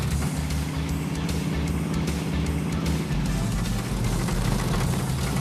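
A bare-metal Chevrolet Bel Air drives on a track, its engine a loud, steady rumble close by throughout, with no talk over it.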